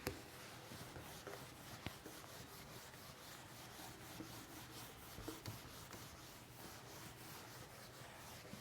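Rhythmic rubbing of a duster erasing writing from a classroom board, a continuous faint scratchy swishing with regular back-and-forth strokes and a few small knocks.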